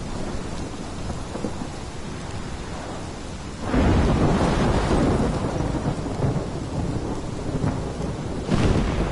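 A thunderstorm in the game Life is Strange: Polarized brings steady heavy rain, then a loud, close rolling thunderclap that swells and rumbles on for several seconds. A further rumble comes near the end, with no voices.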